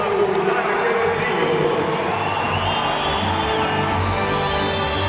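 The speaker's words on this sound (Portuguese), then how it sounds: "Tendo o seu nome gritado pela torcida." A large crowd at the 2007 Pan American Games volleyball final in Rio, Brazil versus USA, roars and chants coach Bernardinho's name in a dense, continuous wall of cheering and shouting that never lets up.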